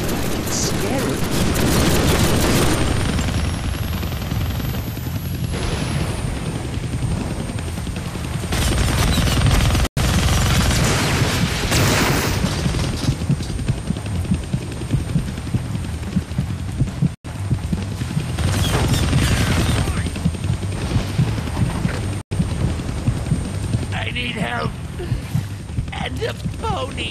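Rapid bursts of gunfire fill the Deadpool video game on Xbox 360, loud and dense throughout, with a helicopter's whine rising in the background and a voice talking over the action.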